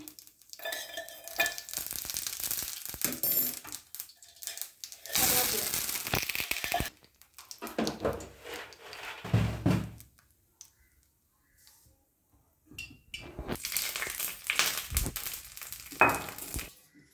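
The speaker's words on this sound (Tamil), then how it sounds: "சின்ன கடாயில் தயிர் தாளிக்கிறதுக்கோசரம் கடுகு போடுறேங்க." Mustard seeds crackle and sizzle in hot oil in a small pan in loud, hissing bursts, separated by quieter pauses, with occasional scraping and stirring sounds.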